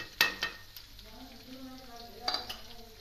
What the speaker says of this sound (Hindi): अब मैं प्याज डालने लगी हूँ।